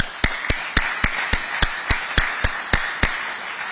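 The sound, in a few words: audience applause for the Governor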